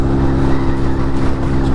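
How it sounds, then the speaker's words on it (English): A CD200 engine labours while climbing a big hill, a loud, steady, close-up drone that holds throughout with no voices over it. "Engine's struggling a bit now."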